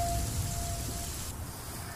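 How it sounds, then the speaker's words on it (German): Steady rain hisses in the video game The Flame in the Flood, a dense, even wash of falling water heard alone at moderate level, briefly joined by a faint tone before the texture thins slightly toward the end. "wenn das jetzt wirklich so blöd ist mit dem Regen hier"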